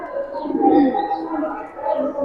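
Soft, low cooing of Giribaz pigeons close by, a couple of murmuring coos rising and falling.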